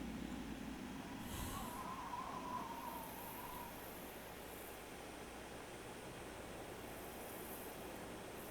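Train in Fallout New Vegas pulling away: a faint, steady rumble with a brief whistle-like tone early on and a thin high hiss running throughout, no voices.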